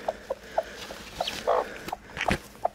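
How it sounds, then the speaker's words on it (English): A hen on a farm clucking in short, separate bursts, a series of close, soft calls with small pauses between them, with no voices. "I hear something under you, little chicken."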